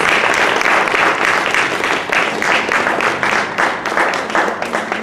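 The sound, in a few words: audience applause for youth concert artists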